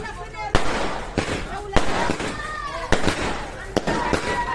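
Diwali firecrackers burst one after another in a steady series of sharp, loud bangs with whistling streaks between them, while people talk nearby.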